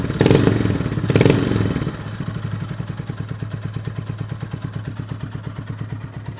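Honda GB350S single-cylinder motorcycle fitted with an IXIL aftermarket exhaust, two short blips of throttle, then settling into a steady, even thumping idle, close and clear with no talking.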